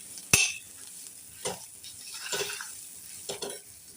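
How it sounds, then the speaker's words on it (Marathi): Onion-garlic masala paste sautéed in oil for a green pea curry: a sharp clink of utensil on pan, then a few soft scraping stirs against a quiet background, no talking. "ते चांगलं असं तेलामध्ये तेल सुटेपर्यंत चांगलं परतून घेणार आहे"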